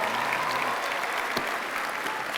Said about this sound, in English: give her a round of applause for all those great products,